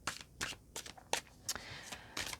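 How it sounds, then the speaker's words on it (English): Tarot cards being shuffled by hand, a quick run of crisp riffling bursts with short pauses, close and fairly quiet, with no talking. "let's just have a quick shuffle"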